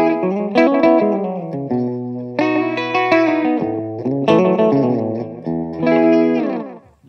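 Electric guitar notes and chords played with firm, nervous picking through a slapback delay and added reverb, giving short doubled echoes and a lingering wash that swells between phrases, loud and close with no talking.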